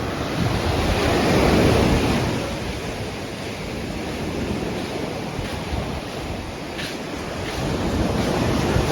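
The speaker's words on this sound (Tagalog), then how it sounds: "Hindi nakaliko dahil malakas ang alon" Ocean surf washes in continuously, rising and falling in broad swells, with wind buffeting the microphone throughout.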